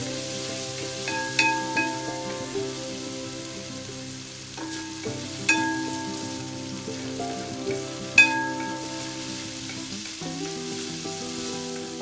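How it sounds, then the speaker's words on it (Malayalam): Ginger fries over a high flame in a pan as the base for pork adobo, giving a steady, close sizzle. Several sharper crackles and stirring scrapes rise above it at intervals. "ഒന്ന് ഫ്ലെയിം കൂട്ടി വെച്ചിട്ടോ കാരണം അതൊന്ന് നല്ലൊന്ന് ഫൈനായിട്ട് നമുക്കതൊരു ഫ്രൈ ആവണം"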